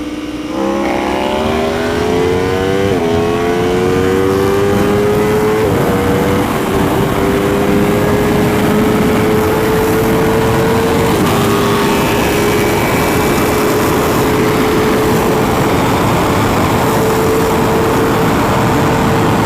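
An Aprilia RSV4 1100 Factory and a Ducati Panigale V4 R accelerate hard through the gears, a loud, continuous high-pitched engine scream with several upshifts and wind rush, heard up close and with no voices.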